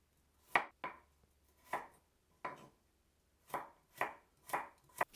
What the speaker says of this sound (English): Cut 1 carrot into small cubes.